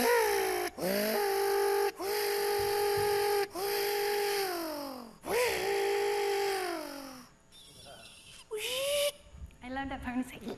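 A human voice imitating a drill, recorded in a machine therapy session: several buzzing, whining bursts with short gaps between them, followed by shorter, choppier vocal noises.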